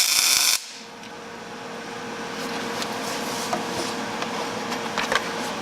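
A Jeep TJ Wrangler steering box reinforcement plate is tack welded: a brief burst of crackling welder noise up close, then a continuous buzzing, sizzling hum with scattered pops, no talk.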